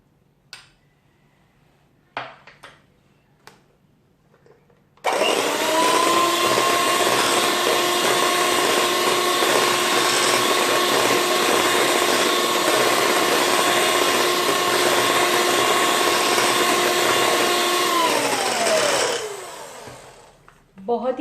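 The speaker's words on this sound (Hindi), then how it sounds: "इसमें मैं 2 टेबलस्पून के करीब ये मैंगो प्यूरी ऐड करूंगी और इसे मैं मिक्स करूंगी" An electric mixer whips whipped cream with mango puree, a loud steady motor whine running for about fourteen seconds before winding down, after a few faint knocks and quiet talk at the start.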